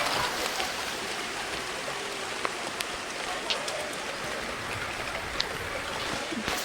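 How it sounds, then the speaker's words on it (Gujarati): Steady summer rain pours down, a dense continuous hiss with scattered sharper drops tapping nearby surfaces. "ખરા ઉનાળામાં વરસાદ ચાલુ થઈ ગયો."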